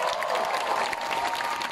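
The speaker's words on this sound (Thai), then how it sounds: "อยากให้พี่น้องทุกคนปรบมือให้ทีมงานไอลอทุกคนหน่อยครับ" Crowd at a political rally outside the Thai parliament applauding the iLaw team, a dense, continuous burst of clapping.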